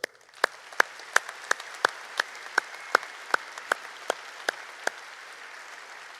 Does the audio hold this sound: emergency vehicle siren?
no